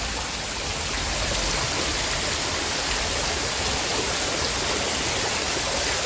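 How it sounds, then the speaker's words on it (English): A Halloween skeleton display fountain runs with water splashing and pouring in a steady, loud, continuous wash, close by and with no voices. "But we also got that fountain"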